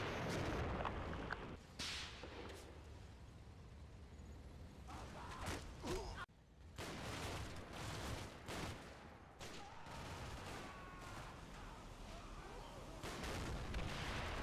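Heavy gunfire and explosions from the World War II video game Combat Mission Fortress Italy, with repeated loud sharp blasts, booming reports and scattered rattling shots in a dense battle mix, including a tank firing its main gun.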